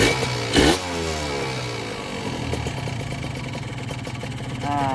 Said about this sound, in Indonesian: ini bunyi kemungkinan dari seher ya